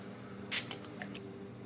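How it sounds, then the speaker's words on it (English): Setting spray misted onto a makeup brush: a single short, faint hiss burst near the start, followed by a couple of softer spritz-like ticks against a quiet room background. "spray the brush just so it can pick up as much"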